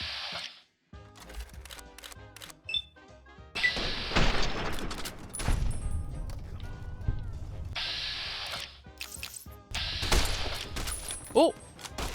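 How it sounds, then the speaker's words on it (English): Varmint rifle gunfire in Fallout: New Vegas: several sharp, loud shots and bursts scattered irregularly amid game sounds and music, with a person talking in between. "Come on, varmint rifle."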